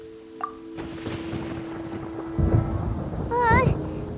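Thunder rumbles and crackles from Paimon's attack in the video game Genshin Impact, a broad low roar swelling over a steady backdrop of rain and wind, with brief high game chimes layered on top.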